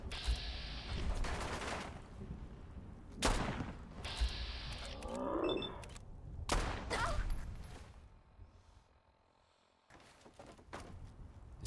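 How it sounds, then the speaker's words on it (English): Gunfire in the modded video game Fallout 4: several sharp bursts of shots and rapid volleys come in irregular clusters, with short gaps and quieter mechanical clatter between them. "We're being shot at from all sides here, guys."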